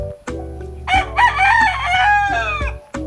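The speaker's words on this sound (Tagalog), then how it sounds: "Marami pong manok pa rin po sa likod ko." A rooster crows loudly and close by, with chickens clucking around it and no one talking.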